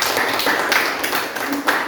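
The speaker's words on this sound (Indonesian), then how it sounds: "Beri tepuk dong." A school class applauding after a group presentation, a brisk, uneven patter of many hands at moderate loudness, continuous for the short span.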